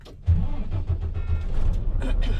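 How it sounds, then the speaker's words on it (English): A truck with a manual transmission and air brakes cranks and fires up, then settles into a loud, close diesel-like idle rumble that holds steady for the rest of the clip. "We're going to start the truck."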